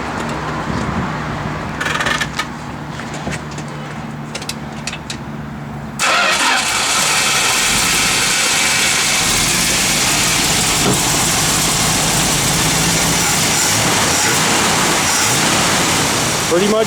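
A 1970 Plymouth Cuda AAR with a stock rebuilt pump-gas engine cranks and fires up around six seconds in, then runs loud and steady with revving close by, preceded by quieter handling sounds.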